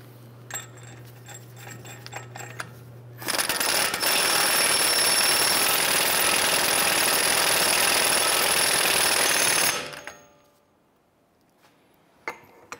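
An axle nut is tightened on the front axle of a 2011-2018 Ram 1500, a loud sustained mechanical rattling burst lasting about six seconds, with scattered clicks and taps before and after.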